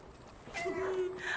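Meowing from a cat in the video game Stray, a short tonal call rising over soft background game ambience.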